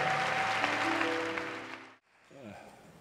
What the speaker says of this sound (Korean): 선교사님들께 감사의 박수로 축복해 주시기 바랍니다